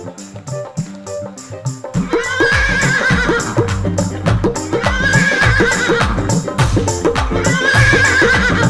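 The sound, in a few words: horse neighing with applause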